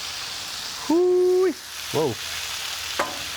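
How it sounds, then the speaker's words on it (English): Fajitas sizzle loudly on a hot platter, a bright steady hiss, while a voice briefly exclaims. "I'm gonna go ahead and start making my sizzling platter here. You hear that?"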